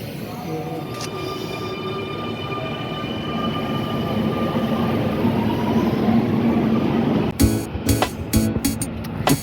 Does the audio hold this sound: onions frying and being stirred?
no